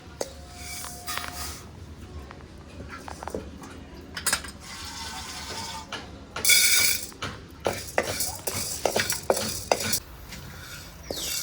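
Lentils dry-roasted until reddish and stirred in a pan over a wood-fired stove, with scraping and metallic clinks of a utensil against the pan in irregular bursts under a faint sizzle, close by.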